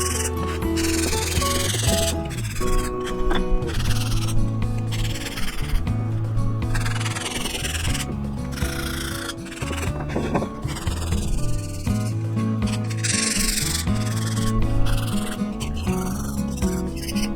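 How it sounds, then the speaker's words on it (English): Wood hand-sanded with 100 then 180 grit sandpaper, a continuous close rhythmic rasping scrape in back-and-forth strokes, steady and fairly loud, with faint background music underneath. "I started with 100 grit sandpaper and then switched to 180 for the final sanding."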